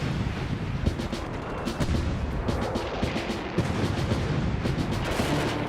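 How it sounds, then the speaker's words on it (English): A World War I artillery barrage of heavy guns on a battle front, a continuous rumbling roar of distant booms blending into a steady dense wash with no gaps. "every gun on the whole front opened up. The roar of the heavy guns was deafening."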